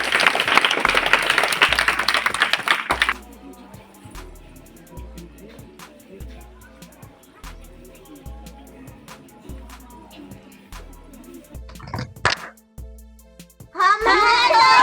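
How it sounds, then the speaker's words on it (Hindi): An audience at a village school claps loudly for a few seconds. Then come quieter scattered sounds and voices, a brief sharp burst, and a final swell of clapping at the end. "एक बार जोरदार ताली भैया के लिए।"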